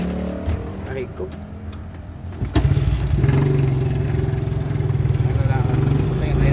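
Small motorized tricycle engine starting up and then idling steadily close by, a loud, continuous rhythmic chug with a low putter, over quieter background noise and chatter just before it.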